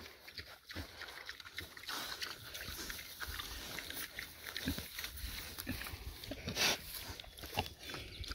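Pigs grunting and snuffling on clover pasture, close and fairly faint, irregular short grunts over rustling outdoor background.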